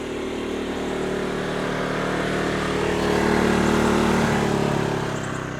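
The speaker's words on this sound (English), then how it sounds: "Now I'm actually going to put eco mode on with you here so you can actually hear it throttle down." Siokiuu portable generator, a budget unit tested for blackout use, running loud and close in eco mode, its engine drone easing gradually as it throttles down over a few seconds with no talking.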